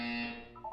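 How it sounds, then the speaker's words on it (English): A harsh electronic buzzer from the video game Portal 2, a single sustained, loud droning tone that holds steady and then shifts pitch briefly as it cuts off, heard alone. "When you hear the buzzer, look down at the floor."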